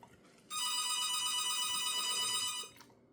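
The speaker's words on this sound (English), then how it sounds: "Phone's ringing." A phone ringtone plays in a quiet room, a bright electronic trill that starts abruptly, holds steady for about two seconds, then cuts off, fairly close and with no talking over it.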